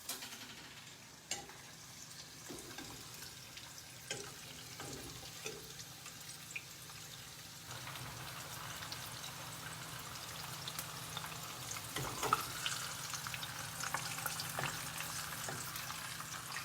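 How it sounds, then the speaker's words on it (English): Cannoli shells frying in hot oil, a steady soft sizzle and bubbling that runs the whole time at low to moderate level, with a few faint clinks and stirring noises and no talking. "Careful because they are very, very hot, huh? They're frying, you know."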